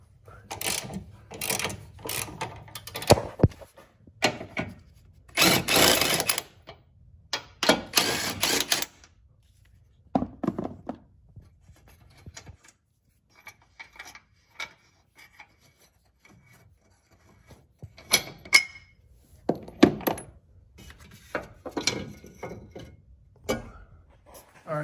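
Close, dry bursts of rasping ratchet clicks come in short irregular spells with quiet gaps between them as an 18 mm socket wrench works strut tower brace nuts and bolts on a 2008-2014 Cadillac CTS.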